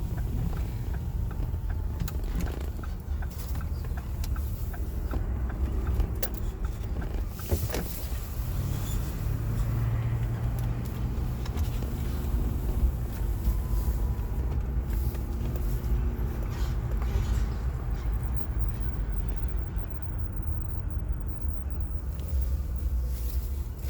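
A car drives down city streets with a steady, continuous road and engine rumble, accompanied by gusts of wind buffeting the microphone throughout.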